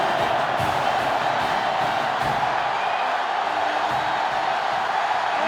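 Stadium crowd at an Alabama vs Auburn game in NCAA Football 2005, a loud, sustained roar of cheering that stays constant throughout, with faint voices underneath.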